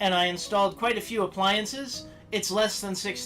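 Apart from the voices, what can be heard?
No everyday noise stands out behind the speech.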